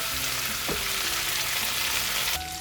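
Mixed vegetables for a Bengali chorchori fry in a pan, giving a steady, close, dense sizzle throughout with a brief knock partway through.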